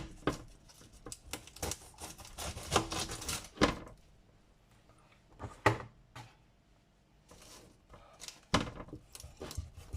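A knife cuts an onion on a cutting board: a quick run of close taps, then sparse single chops with short quiet gaps between.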